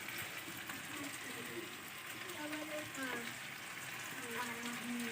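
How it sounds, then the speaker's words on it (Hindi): Chicken pieces fry for karahi in a pan, giving a steady, close sizzle with light crackling throughout, moderately quiet and without pause. "पहले जी गोश्त को फ्राई कर लूँ, अच्छी तरह ही फ्राई हो जाए"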